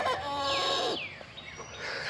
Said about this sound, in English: So these guys have just started trying to learn how to crow.